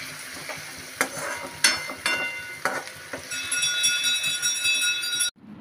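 Grated potato shreds fry in oil with a steady close sizzle, punctuated by sharp spatula clinks against the pan, ending with a sudden cutoff.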